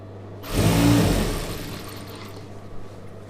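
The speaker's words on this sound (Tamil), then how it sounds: "இது நீங்கள் மிஷினில் பெரிய தையல் வேணால் கூட வச்சு போட்டுக்கலாம்." Sewing machine stitching a chudidhar, a single short whirring run that starts abruptly, peaks for about a second and fades, with a low steady hum underneath.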